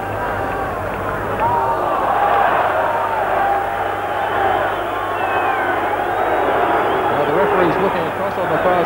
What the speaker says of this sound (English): And that was well received by the crowd